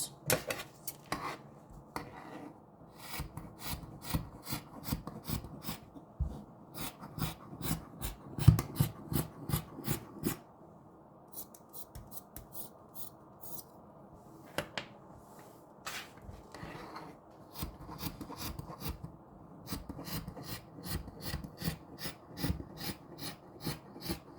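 Scissors cutting out a dress pattern from fabric, heard as a long run of quick, close snipping and crisp blade clicks with brief pauses and light handling rustle in between.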